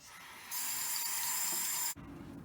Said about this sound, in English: I'm going to run warm water, and then I will just rub a sponge over it to get that off.